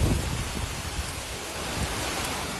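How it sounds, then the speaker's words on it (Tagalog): Strong typhoon winds and heavy rain from Typhoon Marce lash Northern Luzon, a loud, continuous roar of broadband noise with gusting low rumbles throughout. "dahil sa malakas na hampas ng hangin at ulan"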